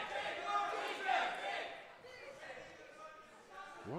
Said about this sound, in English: What on earth are the crowd chanting?